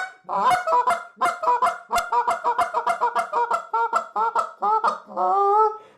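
Goose call blown after its reed was tuned, giving a rapid series of loud, close honks and clucks in an uneven rhythm, ending in one longer drawn-out honk.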